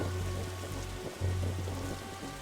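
Steady rain patters on a roof in a detective video game, a dense continuous hiss under a low hum of background music, with no talk.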